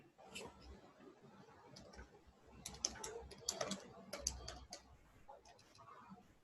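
Long fingernails tap quietly on a computer keyboard in an irregular run of light, clicky keystrokes, with soft talking in the background.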